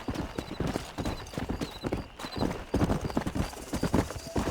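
A horse gallops in the video game Red Dead Redemption, its hooves pounding in a fast, rhythmic clip-clop close by, with a brief whinny in the mix.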